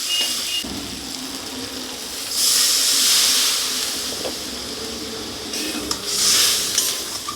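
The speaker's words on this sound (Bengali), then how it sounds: "অল্প করেই জল দেবো, যেহেতু সব কিছু ভাজার সময় সেদ্ধ হয়ে গেছে তাই আমি অল্পই জল দিলাম" Water poured into a hot pan of fried pui greens with mustard gives two bursts of loud hissing steam, each swelling and fading over a steady background.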